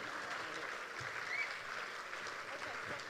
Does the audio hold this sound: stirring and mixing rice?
no